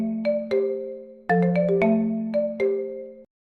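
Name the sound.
phone ringtone for an incoming call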